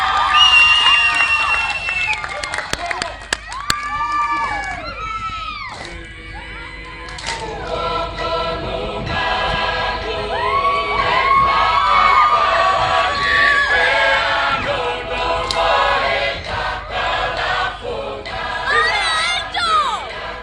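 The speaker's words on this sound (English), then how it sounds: "can we have a round of applause for Northcote College and High School" Crowd cheering, whooping and shouting at a school event for two high schools, loud and energetic with children's voices mixed in and bursts of yelling throughout.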